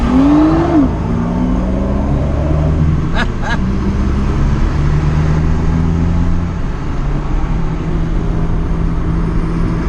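A car on a Raleigh road accelerates away, its engine note rising briefly before fading into steady traffic rumble, with a couple of short sharp clicks partway through.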